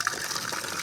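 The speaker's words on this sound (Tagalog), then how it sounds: "Ayun, ang bilis lumabas ng tubig." Water rushes steadily and strongly out of a newly installed faucet at a pig pen under construction, a close, continuous splashing gush with no voices.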